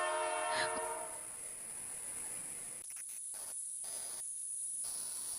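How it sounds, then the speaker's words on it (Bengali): A faint, distant train whistle at night gives one drawn-out tonal blast with harmonics early on, then fades into low static and near silence. "হঠাৎ দূর থেকে ট্রেনের হুইসেল।"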